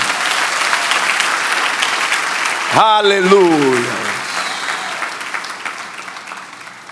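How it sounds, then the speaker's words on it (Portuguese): Steady applause from a congregation in church, a broad continuous wash of clapping, with a voice calling out briefly over it partway through before the clapping gradually tapers. "Aplauda o Senhor nessa casa."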